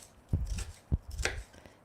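A knife slices a shallot on a cutting board, giving three distinct close thuds spaced evenly with soft cutting sounds between them, and no speech.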